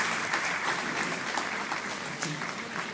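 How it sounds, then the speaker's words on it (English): Steady audience applause at a health conference, a dense, even wash of many hands clapping for the full few seconds, moderately loud and unbroken. "A round of applause for her as well."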